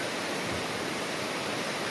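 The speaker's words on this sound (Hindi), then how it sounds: "झरना" A waterfall beside the Pindari Glacier trekking route in the Himalayas roars as a constant, dense rush of falling water, loud and unbroken.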